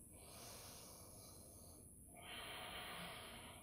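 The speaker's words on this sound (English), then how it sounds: "Inhale through the nose." A long nasal inhale during a plank pose, soft airy breath noise rising and holding steady through the second half, close and quiet, with no talk.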